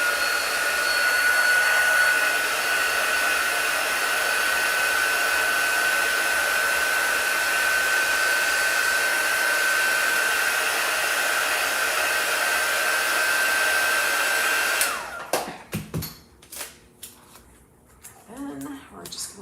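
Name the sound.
hair dryer drying a chalk drawing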